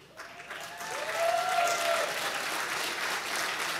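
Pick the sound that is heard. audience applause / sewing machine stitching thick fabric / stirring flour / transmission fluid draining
audience applause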